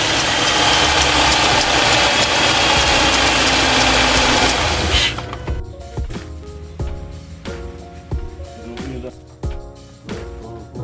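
A burned Subaru car engine runs loudly and roughly for several seconds, then cuts back to an uneven, knocking idle with irregular clanks and taps close by.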